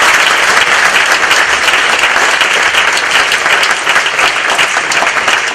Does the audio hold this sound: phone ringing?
no